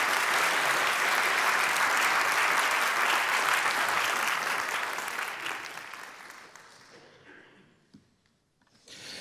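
A church congregation at a live Baptist service applauds at the end, producing dense, sustained clapping that holds steady for several seconds and then gradually fades out to near silence, with a brief final burst.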